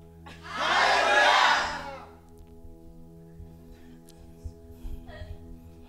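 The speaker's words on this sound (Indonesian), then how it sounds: "Sama-sama serukan haleluya." A church congregation at a retreat shouting hallelujah together, one loud swelling roar of many voices lasting about a second and a half, then a quiet room with faint murmurs and a brief distant voice.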